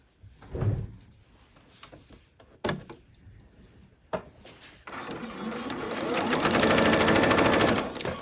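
Domestic sewing machine stitching after a deep clean, a few short clunks and bursts first, then a steady fast whirring run of needle strokes that swells loud and close before stopping.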